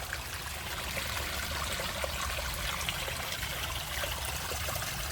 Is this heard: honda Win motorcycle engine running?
no